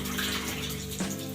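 Water rushes steadily from a newly fitted tap in a village house, a brief close hiss of flow with no voices.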